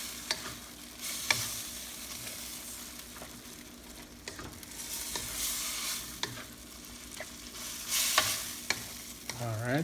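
Chicken curry pieces being stirred in a pan, with steady frying sizzle underneath and repeated scraping strokes of a spoon against the pan, fairly close, no talking.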